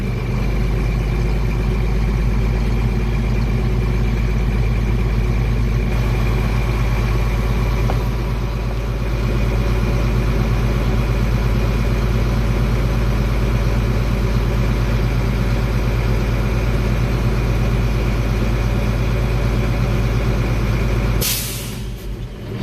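Truck engine held at 1,000 RPM during a Class A air brake test, a loud steady drone of raised idle that runs continuously, ending with a brief sharp burst of hiss near the close.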